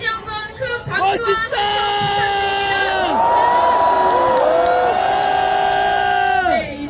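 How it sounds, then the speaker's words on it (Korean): A crowd at a candlelight rally on the steps of the National Assembly, demanding an impeachment, cheers and whoops loudly; sustained, tonal shouts and cries swell together and carry on throughout. "여러분 전현희 최고위원님께 다시 한번 큰 박수와 함성"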